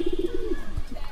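Pet pigeons cooing in a rhythmic series of soft, low calls, fairly close, with a pause and a few further coos at the end.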